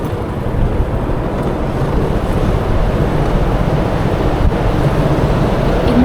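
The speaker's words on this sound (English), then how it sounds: "I was only riding at about 20 kilometers per hour" A motorbike rides slowly through city streets in Vietnam, and steady, heavy wind noise buffets the microphone throughout, loud and continuous with no talk.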